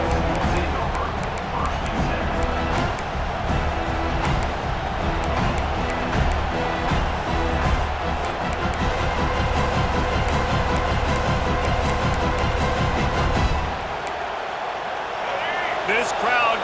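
Stadium crowd roar in a college football video game featuring the Florida Gators, a steady dense wash of cheering that holds loud throughout, with a play-by-play commentator talking over it.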